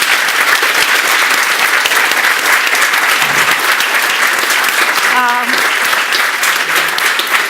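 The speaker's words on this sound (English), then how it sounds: "give a warm applause and thanks a lot" Steady, dense applause from an audience fills the whole stretch, loud and continuous without letting up.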